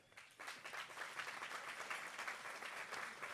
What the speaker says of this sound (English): I want to give you a round of applause to Junior Achievement for all that they do.